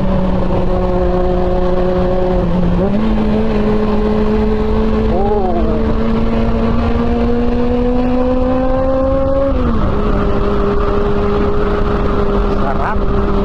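A Honda CB400 motorcycle engine on a winding mountain road drones loudly and close, its pitch climbing as it revs, dipping briefly at shifts, with a faint voice now and then under the engine and wind.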